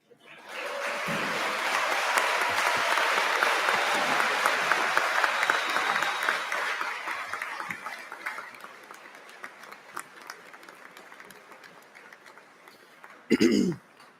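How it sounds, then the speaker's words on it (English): Large audience applause at a 2022 commencement ceremony swells into a sustained roar, then gradually thins and fades, ending with a brief loud voice near the microphone. "Now you can clap."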